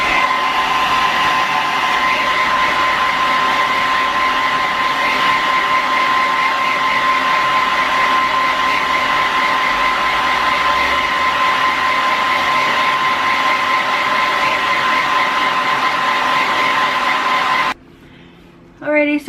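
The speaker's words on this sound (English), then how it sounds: "So let me blow dry my hair." A hair dryer blows hair dry with a steady, loud, close whirring roar that runs almost unbroken, then cuts off abruptly near the end, leaving a brief quieter moment.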